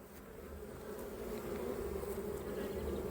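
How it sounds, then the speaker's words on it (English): Guard bees from a neighbouring apiary hive buzz steadily and close, a dense continuous drone that swells slightly louder toward the end, with no voices. "Still getting hassled by the guard bees from next door."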